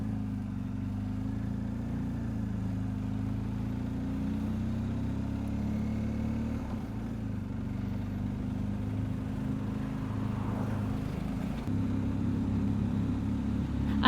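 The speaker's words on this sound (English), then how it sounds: "There's a car coming down quite fast." A car speeds down a mountain road in Corsica, its engine a steady low drone heard at moderate distance throughout, with no talking.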